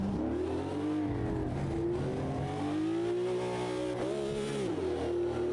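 Race car engine in Automobilista 2 with wheel spin in second gear, a continuous loud droning whine that rises and dips with throttle and shifts, steady and close with no talk.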